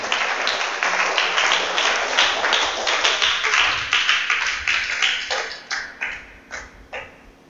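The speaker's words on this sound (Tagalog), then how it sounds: "Palakpakan natin muna ang ating Panginoon." A church congregation applauds during worship with dense, steady clapping that thins out toward the end into a few scattered, fading claps.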